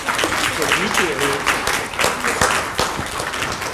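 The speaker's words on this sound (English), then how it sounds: "if you all can give them a nice round of applause" An audience applauds panelists at a real estate producers' panel event, steady dense clapping throughout, loud and close, with a few voices mixed in.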